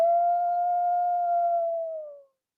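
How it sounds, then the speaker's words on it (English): A single wolf howl, long and smooth at a steady pitch, rises clear and loud, then trails off and fades into silence after about two seconds. "Let's live and let howl."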